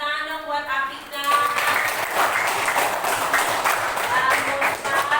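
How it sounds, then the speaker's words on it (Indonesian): A room full of people breaks into sustained applause after a voice speaks, the clapping dense and steady to the end. "Tepuk tangan dong buat Afika"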